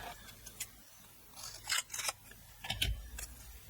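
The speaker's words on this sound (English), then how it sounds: "I'm going to just cut what I need." Scissors cut an adhesive sheet for a wedding card, a few soft close snips and crinkling paper handling, quiet with no talk.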